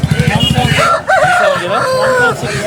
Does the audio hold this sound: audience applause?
no